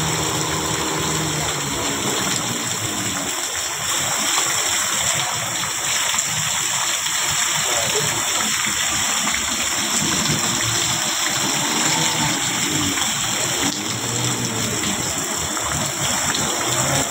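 Floodwater rushing through Metro Manila streets after heavy rain, a loud, steady roar of flowing water that continues without a break, with a low mechanical hum underneath and no speech.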